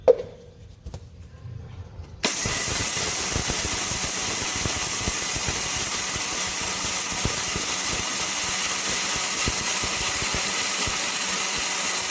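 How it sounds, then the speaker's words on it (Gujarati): An electric kitchen grinder grinding moong dal switches on after a brief quiet moment and runs with a loud, steady, high whirring roar that continues without a break. "હવે આપણે આ દાળને પીસી લઈશું."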